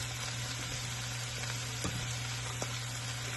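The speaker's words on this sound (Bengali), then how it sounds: "এই পর্যায়ে আমি অ্যাড করে দিচ্ছি ক্যাপসিকামগুলো। এখানে দেখতে পাচ্ছেন ক্যাপসিকামগুলো দিয়ে মাঝারি আছে আমি এটাকে কিছুক্ষণ জাল দেব।" Capsicum and mixed vegetables frying in a pan, giving a steady, even sizzle with a couple of soft clicks, close and moderately loud, with no voices.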